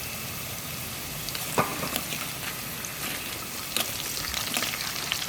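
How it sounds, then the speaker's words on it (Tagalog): Potatoes fry in a hot kawali for liempo mechado, giving a faint, steady sizzle and crackle with occasional sharper pops and spatters throughout. "Tapos, pag mainit na, i-prito natin yung patatas."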